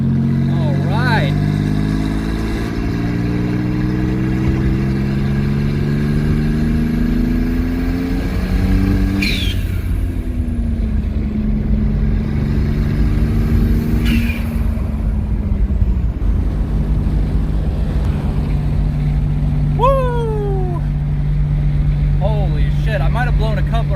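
Twin turbo V6 Mustang with twin VR4 turbos, revving repeatedly as the engine note climbs and falls in long rising sweeps, with whistling boost and sharp blow-off releases between pulls, loud and close under occasional speech.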